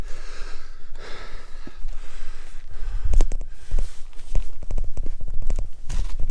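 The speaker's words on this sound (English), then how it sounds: "You hear I'm still panting quite a bit." A hiker breathes heavily and pants while climbing uphill on a warm gorge walk, with close, loud breaths mixed with footsteps, scuffs and handling noise.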